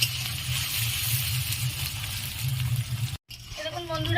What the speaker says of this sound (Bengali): পেঁয়াজগুলো আমি ভালো করে লাল লাল করে ভেজে নেব।